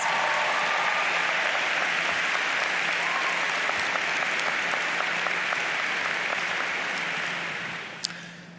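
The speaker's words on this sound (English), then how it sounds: "Can we give them a round of significant applause?" A large audience applauds faculty and college leaders during a speech, broad steady clapping that carries on for about seven seconds, then fades out with a single sharp clap near the end.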